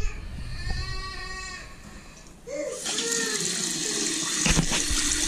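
Water rushing from a residential hot water tank line after sediment is cleared, starting with a whining, tonal flow that breaks into a louder, broadband steady gush.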